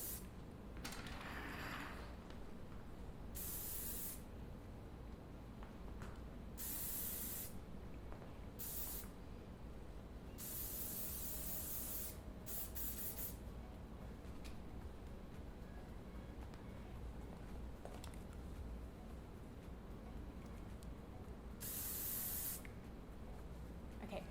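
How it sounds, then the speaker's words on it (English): Oribe Superfine Strong hairspray sprays onto styled hair in a series of short, close hissing bursts separated by pauses, with no talking. "I am going to use Orbet's Superfine Strong Hairspray and make sure that this stays."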